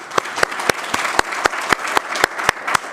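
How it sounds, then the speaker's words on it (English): Summit audience applause sounds as a run of evenly spaced, crisp claps, each sharp and distinct, close and moderately loud, over about three seconds. "So let's give these men a round of applause."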